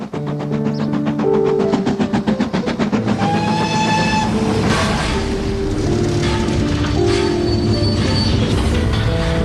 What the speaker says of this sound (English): The train didn't always stop in Charleville